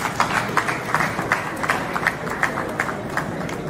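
Audience applause at a mayors' inauguration ceremony in Abia State, a steady patter of clapping from a moderate crowd, rhythmic and fairly even, heard from some distance.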